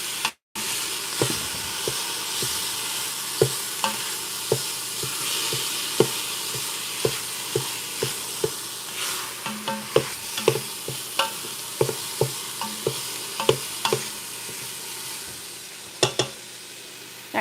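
Lasagna meat sears in a Ninja Foodi multicooker on its sear/sauté setting, giving a constant bright sizzle punctuated by regular spoon scrapes and taps against the pot, close and with no voices.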